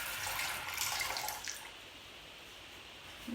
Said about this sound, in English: let's pour the water.